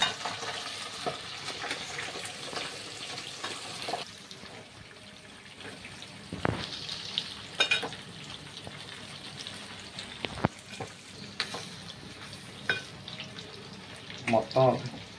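Chicken frying in oil in a pan, with a soft, uneven sizzle and occasional stirring clatter alongside faint water and kitchen noises, while a person talks intermittently over it.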